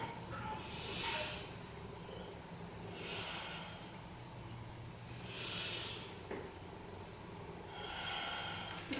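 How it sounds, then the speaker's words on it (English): Slow, deep breaths during yoga shoulder rolls, four long airy exhalations spaced a few seconds apart, close and soft over a quiet room hum, with no talking. "Take 3 more breaths with your shoulder roll."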